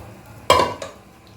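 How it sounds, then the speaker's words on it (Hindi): A spoon stirring turnip chicken curry in a pot, one sharp scraping clatter followed by a softer second scrape, close and alone against a quiet kitchen background. "एक दफ़ा स्टिर करें"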